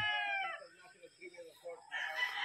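Chickens in a small farm coop, with a rooster's crow opening the sound and a second crow rising near the end, loud and close, with scattered clucks and brief talk in between.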